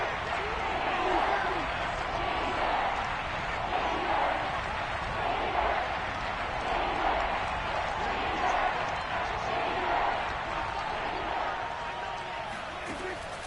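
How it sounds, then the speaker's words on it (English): Steady roar of a football stadium crowd cheering during an NFL game, a broad continuous wash of noise that swells slightly, with commentators talking over it throughout. "Crowd getting in it a bit already."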